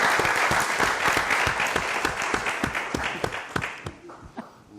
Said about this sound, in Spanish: Un aplauso, por favor, para nuestra invitada